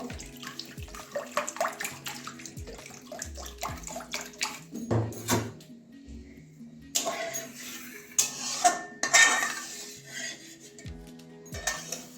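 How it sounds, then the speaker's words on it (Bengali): Water poured into a pot on the stove for boiling washed moong dal, with splashing, pouring and clattering of metal cookware in a home kitchen, the flow swelling louder toward the end. "কড়াই বসিয়ে দিয়েছি এবারে জল দিয়ে দিচ্ছি ডালটা সিদ্ধ করে নেবো"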